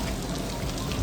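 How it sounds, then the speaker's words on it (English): Heavy rain in Goa early in the morning, a short dense wash of falling drops hissing steadily without a break. "it's raining like cats and dogs early in the morning in Goa"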